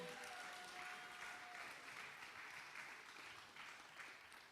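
A poetry slam audience applauds a poet after scores are read, a steady dense wash of clapping and crowd noise that fills the room for the whole stretch without fading.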